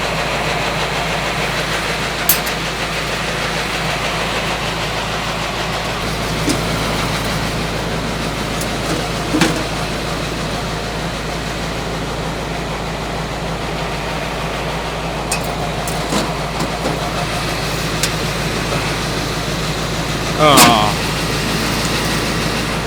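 A tractor engine runs steadily with the PTO engaged during moldboard plowing in the snow, a constant low rumble close by, with scattered clanks and a brief clatter near the end.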